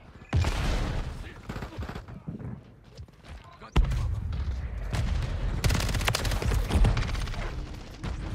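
Sustained automatic gunfire and loud shots from an online shooter game, rattling bursts with a sudden heavy blast midway, dense and up close, with brief chatter among players.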